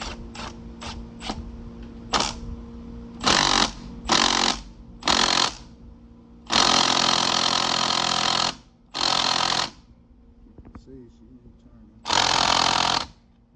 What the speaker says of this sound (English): I'm gonna take my small impact, my baby impact. I'm gonna run it in there.